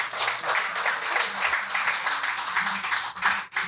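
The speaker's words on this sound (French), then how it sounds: "Applaudissez-le." Audience applause for a donor at a community gathering, brisk, dense clapping from many hands held at a fairly even level throughout, with a brief dip near the end.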